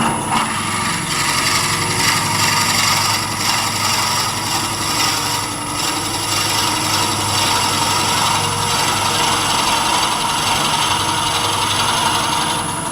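A lathe spins a drill bit held in a Jacob's chuck at about 750 RPM, giving a loud, steady motor whine with a faint grinding rub from the bit cutting the workpiece, all unbroken and without speech.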